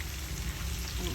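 Adobo toasting in a pan gives off a steady, close sizzle with a dense crackling texture, with no talking over it.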